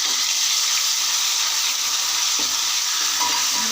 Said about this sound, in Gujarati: 1 ચમચી લસણની પેસ્ટ એડ કરીશું